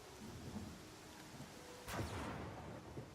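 A thunderclap cracks and rumbles in the fantasy video game Pathfinder: Kingmaker, one sharp loud strike midway through over a steady hiss of rain, with no talking.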